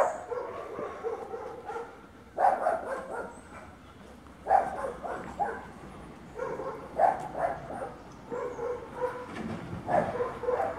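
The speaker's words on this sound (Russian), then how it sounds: "Территория достаточно большая и охраняется, как вы слышите, собаками." Several guard dogs bark in the distance in Gelendzhik, irregular bursts of woofs and yips recurring every couple of seconds over faint outdoor background.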